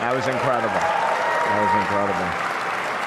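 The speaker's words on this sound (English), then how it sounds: "And one more round of applause" Conference audience applauding steadily throughout, with a voice speaking clearly over the clapping.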